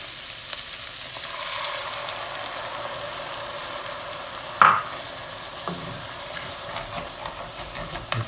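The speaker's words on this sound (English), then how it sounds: "we want to deglaze that with our white wine to get those up" White wine poured into a hot pan of browning turkey ragu base, giving a steady close sizzle and stirring with one sharp clink of a utensil against the pan partway through.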